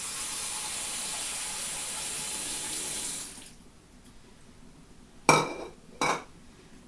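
Water runs steadily into a kitchen sink as something drains, close and continuous for about three seconds, then stops. Two short clanks of a pot or lid follow in the quiet.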